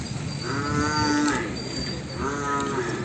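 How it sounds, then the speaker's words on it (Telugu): Dairy buffalo at the Erragadda Sunday buffalo market in Hyderabad, two long drawn-out moos a second apart, close and clear over faint market background noise. "ఇది పాడి గేదె పాలిస్తుంది. కాఫ్ కూడా ఉంది."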